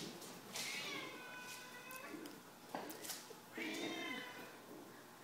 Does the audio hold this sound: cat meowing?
yes